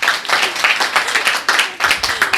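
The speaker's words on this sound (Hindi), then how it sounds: "सब लोग एक बार एसके झा सर के लिए ताली बजा दीजिए" Students clap loudly for their teacher SK Jha at the reopening of his coaching centre, close, energetic bursts of hand clapping with a few brief dips in between.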